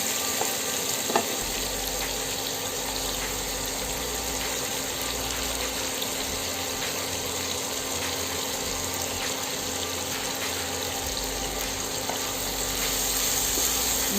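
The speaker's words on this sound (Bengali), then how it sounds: "পেঁয়াজগুলো আমি এই তেলের মধ্যে একটু সফট করে নিব, কাঁচা গন্ধ চলে যাওয়া পর্যন্ত তেলের মধ্যে ভেজে নেব" Chopped onions fry steadily in hot oil for a cow brain curry, a continuous dense sizzle close by with a faint stir or clink early on, and no talking.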